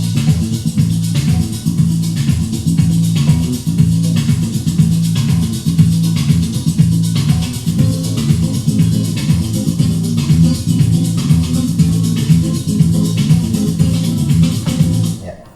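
Music demo played loud through a hybrid tube multifunction speaker with DAC, amp and Bluetooth, a continuous track with a pulsing, rhythmic bass line running steadily throughout and no talk over it.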